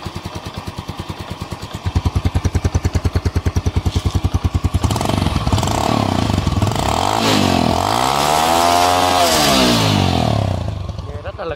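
A 2007 Yamaha Sirius motorcycle, just back from an engine rebuild, idles with a rapid uneven putter, then revs up and down in several rising and falling surges, close and loud.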